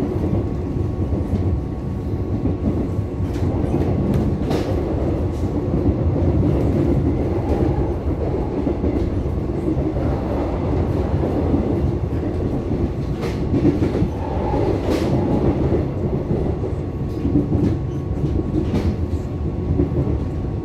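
A ten-car Taiwan Railway EMU900 commuter train bound for Keelung passes close by, a loud continuous roar of wheels and motors with rhythmic clickety-clack over rail joints lasting the whole stretch, without talk.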